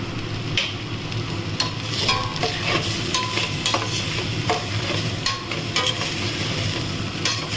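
Lentils for khichdi stirred in a pot, a loud, close sizzle with repeated scraping and knocking of the spoon against the pot in an irregular rhythm, no voices.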